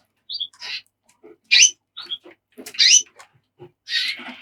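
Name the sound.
birds chirping in an aviary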